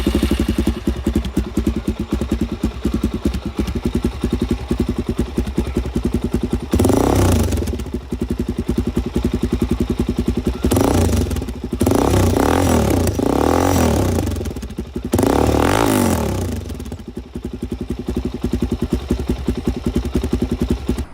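A Suzuki DRZ400SM supermoto fitted with a Scorpion aftermarket exhaust idles with a steady, loud burble, then revs hard in three separate bursts, the middle one a cluster of quick blips, with no talking over it.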